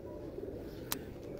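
Cooing from old teddy pigeons in a fancier's loft, a soft steady low murmur with one brief sharp click partway through.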